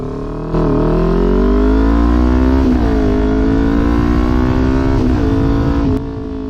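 A Kawasaki Ninja 400 motorcycle revs hard and accelerates, its close, loud engine note climbing and shifting through gears in a steady rising drone for several seconds before cutting off.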